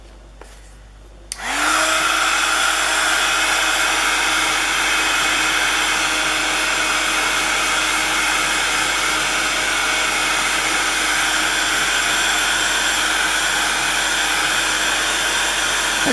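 A handheld dryer blasts steadily over mixed media paper tags, switching on after a brief quiet moment and then roaring loud and close in one unbroken whoosh for the rest of the time.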